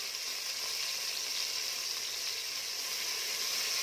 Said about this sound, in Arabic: وبعدين طماطمية افركها كده اهو في قلب الطشة